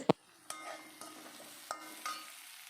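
Onions being stir-fried in an oil pan for fried rice, with a sharp scrape of the spatula at the start and then several softer stirring scrapes spaced about every half second over a low, steady sizzle.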